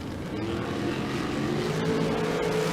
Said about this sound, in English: you can hear the throttle work happening down before the finish line